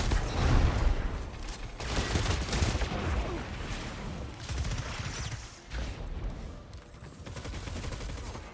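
Pulse rifle fire in a video game comes in rapid bursts of loud, sharp shots, broken by short pauses, with some gameplay clatter around them.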